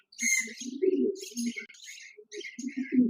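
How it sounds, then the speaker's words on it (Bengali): A pair of diamond doves in a cage, giving soft, close coos and short chirpy calls in quick repeated bursts. "এখানে দেখতে পাচ্ছেন একজোড়া ডায়মন্ড ডাক ঘুঘু পাখি রয়েছে"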